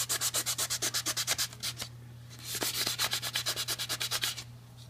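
A green burnishing disc rubbed back and forth over oiled wood to repair a scratch, fast rhythmic scrubbing strokes in two bursts separated by a short pause, close and fairly loud over a steady low hum.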